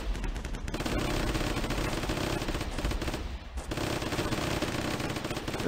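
Rapid automatic Tommy gun fire from the World War II Flash game Warfare 1944, a dense, steady chatter of shots with a brief lull near the middle.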